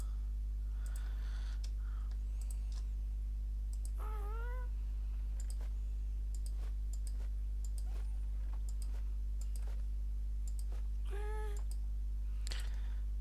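Several short, soft cat-like mewing calls from a Minecraft mob, scattered across a quiet stretch over a steady low hum, with faint clicks between them.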